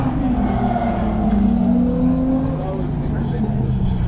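Car engine rumbling and revving steadily at a Toy Barn car meet, a continuous close motor drone with rising and falling pitch, voices talking over it throughout.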